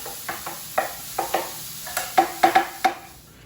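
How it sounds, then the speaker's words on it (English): Mushrooms sizzle softly in a pan under a series of sharp scraping clacks from a spatula being stirred around, irregular and close. "We're going to continue to sizzle up these mushrooms"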